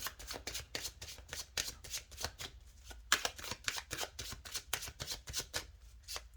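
Tarot cards are shuffled close up in quick repeated riffles and flicks, a rapid papery rhythm of crisp taps that continues without pause and without speech.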